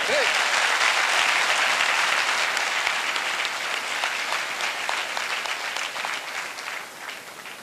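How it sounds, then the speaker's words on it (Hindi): An audience applauding at a motivational talk on taking a first step, with dense sustained clapping from start to finish that slowly thins and softens toward the end. "जोरदार तालियां"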